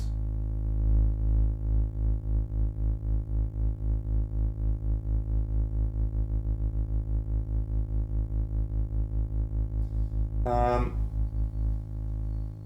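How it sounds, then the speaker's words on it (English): A steady tone from an abSYNTHe / Zeroth Law oscillator with a pulsing, rhythmic filter sweep, sustained and fairly loud, with a brief burst of higher harmonics near the end. "You can then add some filter modulation to it."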